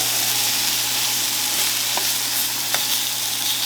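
Chicken sautéing in olive oil gives a steady, loud broadband sizzle with a low hum beneath it, broken by two faint ticks from utensil contact; no voices.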